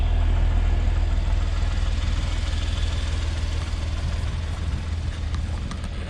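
A Porsche 911 Carrera 4 coupe idles with a steady low rumble that stays even and continuous, fading slightly toward the end.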